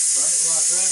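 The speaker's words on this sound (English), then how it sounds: "we're fixing to hit that quick release button back here in the back" A Ninja Foodi Deluxe vents steam through its quick release, a loud close, steady hiss that fills the brief moment while a voice talks underneath.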